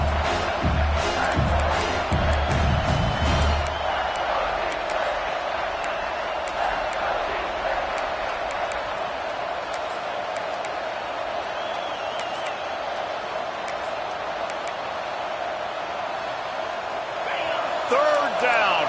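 A stadium crowd roars in the video game College Football 26 during a South Carolina vs Georgia red-zone play, a broad, sustained wash of cheering under play-by-play commentary, with louder bursts at the start and end.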